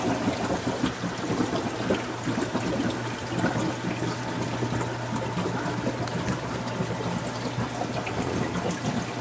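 A Mag 18 pump pushes water up to feed two overflows on a 210-gallon freshwater aquarium, heard as a constant close trickling, splashing flow over a steady low hum, unbroken for the whole stretch.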